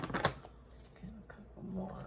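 A brief crisp riffle of tarot cards being shuffled, followed by soft handling sounds in a quiet room.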